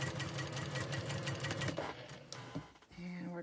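A sewing machine sews three small quilt squares together for a nine patch block, with a rapid steady stitching rattle that stops briefly and then resumes. A voice talks over the machine.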